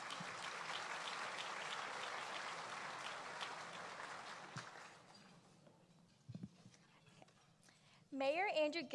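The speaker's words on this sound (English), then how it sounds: "let's give her a round of applause" A crowd at a 2017 State of the City presentation in Biloxi applauds steadily for several seconds, the clapping fading out before a few scattered claps and a voice begins speaking.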